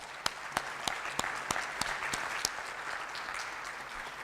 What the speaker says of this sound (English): let's all give them a round of applause for sharing with us the insights